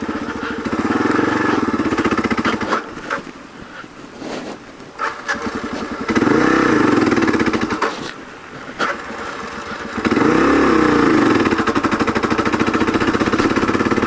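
A motorcycle pulls away in third gear, its engine note rising in two loud surges separated by a dip, close to the listener with a brief voice near the start.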